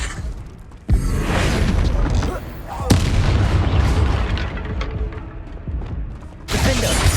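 The Bombarda blasting spell going off in Hogwarts Legacy, a sharp explosive boom followed by rumbling debris and a second blast, loud and close amid ongoing combat noise.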